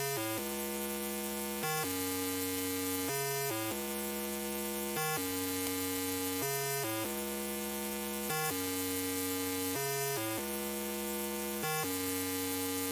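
A buzzy, harmonically rich synthesized bass made in Serum 2 plays a stepping pattern of sustained notes that shift pitch every second or two, loud and continuous.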